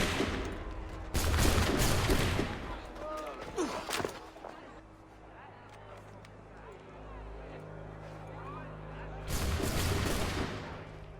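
A musket volley in Assassin's Creed III, set in colonial Boston: a loud, ragged burst of many shots at once, a quieter stretch with scattered cracks and murmuring voices, then another heavy volley near the end.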